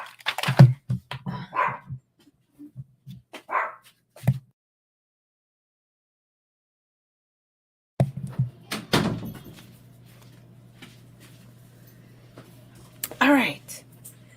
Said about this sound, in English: the dog is like wanting to come in